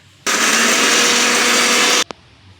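A mixer grinder runs on dry coconut and roasted gram, a loud, steady whirring roar lasting about two seconds that starts abruptly and cuts off, followed by a small clunk.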